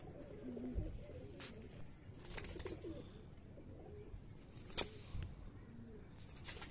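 A female Firozpuri highflyer pigeon coos softly nearby, with low repeated calls among faint rustling and a few sharp clicks.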